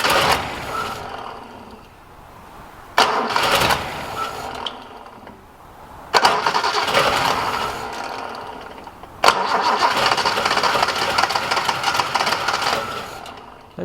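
A Datsun 240C engine is cranked over in repeated bursts, each starting with a sharp onset and grinding along for a few seconds before stopping, close by, with no voices.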